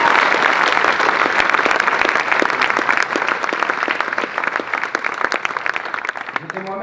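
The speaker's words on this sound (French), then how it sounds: "j'aimerais qu'on fasse un tonnerre d'applaudissements pour l'association Les Anges d'Angeline et tout le comité d'organisation" Thunderous applause fills a banquet hall during a charity gala evening. Dense, sustained clapping from a large crowd stays loud and steady for several seconds before trailing off, with faint voices underneath.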